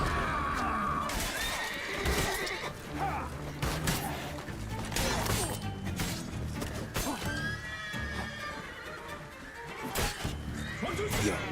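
Horses neigh and whinny repeatedly during battle in the video game For Honor, with hoofbeats, clashing weapon impacts and shouting voices mixed throughout.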